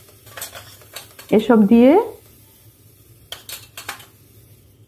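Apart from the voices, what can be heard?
stirring ground spices into peas in a pan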